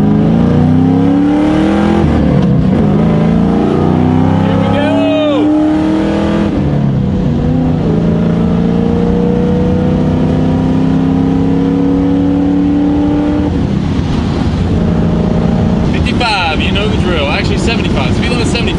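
A 190K-mile Ford Mustang engine revs and accelerates as the car drives off, pulling loud rising gear sweeps with shifts between them, under men's chatter.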